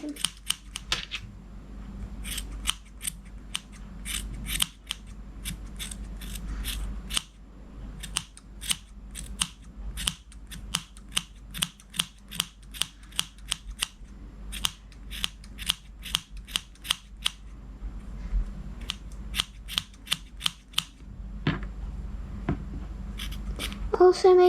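Scissors repeatedly snipping a yarn pom pom to trim it, dozens of crisp close clicks in quick irregular runs, with a few quiet stretches and some faint talk in the background.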